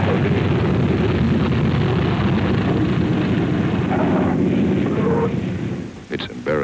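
WWII Airacobra and Thunderbolt fighter planes come in to land with a loud, continuous engine roar that fades near the end, followed by a couple of sharp knocks.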